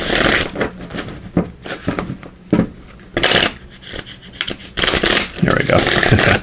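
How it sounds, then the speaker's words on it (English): Tarot cards are shuffled by hand in repeated bursts of papery riffling and slapping, with short pauses between them, close by and fairly loud, while a voice speaks briefly between the bursts. "Give these a good shuffle"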